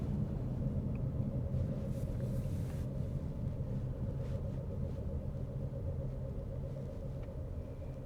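A steady low rumble of road and engine noise fills a car's cabin as it drives slowly through Tokyo streets. The drone is constant and close, with only faint, scattered higher sounds above it and no talking.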